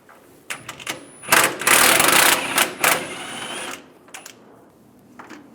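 A 15mm socket wrench works a bolt loose on a 2007-2013 Chevrolet Silverado 1500 rear bumper, giving close bursts of rapid ratcheting clicks with brief pauses between.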